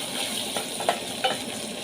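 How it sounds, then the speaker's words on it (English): Carrots and onions get stirred in a hot pan for githeri, a soft steady sizzle with two or three brief scrapes and clicks of a spoon, close and moderately loud. "I'm starting to mix everything so nicely, and for the carrot to soak in the onion flavor."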